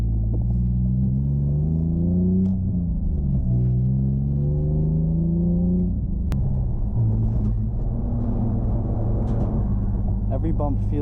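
BMW E46 car driving over rough train tracks, squatted up front, the cabin filled with a steady deep engine and road rumble and a few harsh thumps as the wheels cross the rails; no talking.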